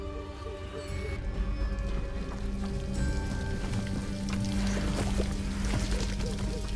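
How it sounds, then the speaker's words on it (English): A waterfall in Hogwarts Legacy pours in a steady, full splashing rush that rises slightly after the first second, with soft game music tones and scattered droplet-like patters over it. "The waterfall."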